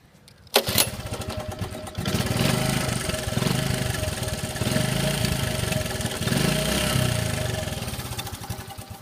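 An all-original vintage three-wheeler's engine kicks to life with a sharp catch, then settles into a loud, close, slightly uneven cold idle that surges and dips over several seconds, with no one speaking.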